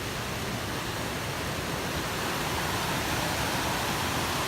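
A creek flowing beside a hiking trail on the Benton MacKaye Trail, a steady dense rushing wash of water, close and even in loudness throughout, with no talking.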